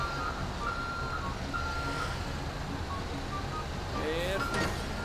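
Tow truck reversing beeps from GTA 5 repeat steadily over a continuous engine rumble, with brief speech near the end.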